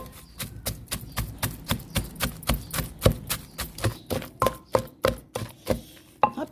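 A stone mortar being pounded steadily with ingredients for a Thai-style salad: mild chili peppers, MSG, salt and a splash of water. About fifteen sharp, close thuds land at an even rhythm, each with a short ringing knock.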